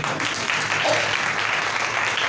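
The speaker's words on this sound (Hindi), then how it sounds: "जोरदार तालियां।" Church congregation bursting into applause during a Hindi-language sermon, a dense steady patter of many hands clapping close and loud for a couple of seconds without talk.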